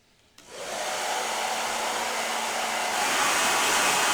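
A hot air tool used to melt crayons blows a loud, steady rushing whoosh that starts abruptly after a brief quiet moment and holds constant, growing slightly louder toward the end, with no talk.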